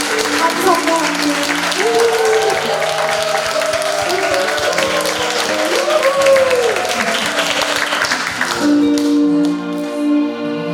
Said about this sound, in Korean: 우리 모두를 위해 박수 한번 할까요?